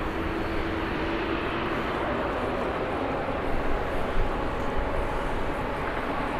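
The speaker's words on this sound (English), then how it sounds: "the next arrival is a TUI from Verona" TUI airliner arriving at Birmingham Airport from Verona, a loud, steady jet engine roar that holds constant and swells slightly near the end, with no speech over it.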